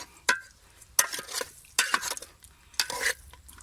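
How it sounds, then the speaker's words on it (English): Seasoning being stirred into grilled chicken curry, with four distinct bursts of a utensil scraping and clinking around the pot, close and separated by short quiet gaps over a low sizzle. "Now we stir this in."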